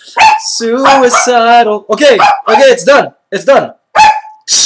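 Chihuahua dog yipping and howling in tune while a person sings, bursts of high wavering canine cries mixed with human voice, close and loud, then a person speaks briefly.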